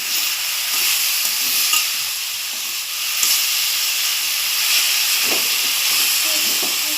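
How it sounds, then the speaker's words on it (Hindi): A jaggery laddoo mixture cooks in a pan with a constant hissing, steamy sizzle and a few soft stirring scrapes near the end, heard close and fairly loud with no talking. "अभी मैं इसको ऐसे ही पकाऊंगी अच्छे से।"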